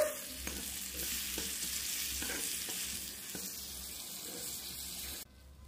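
Fried prawns with fresh cream are stirred in a pan, a soft sizzle under a few light scrapes and taps of the spoon, fading out near the end.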